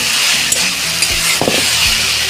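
Mushrooms and potatoes frying in a pan produce a dense, steady sizzle up close, with a few soft stirring scrapes and bubbling pops, with no speech.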